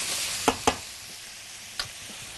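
Liver, gizzards and vermicelli frying in two pans, with a soft steady sizzle and a few sharp scraping clicks of a utensil stirring against the metal.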